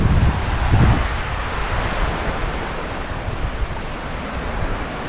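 Ocean waves at Tanjung Lompat beach in Bandar Penawar, a broad steady wash of surf with a louder surge early on, mixed with gusting wind noise on the microphone.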